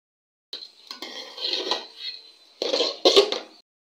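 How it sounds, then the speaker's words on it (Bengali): Rice being fried in a pot for khichuri, heard as intermittent scraping and clinking of a utensil against the pot in a few close bursts, with no voices. "এখন আমি চালটি ভালোভাবে ভেজে নেব।"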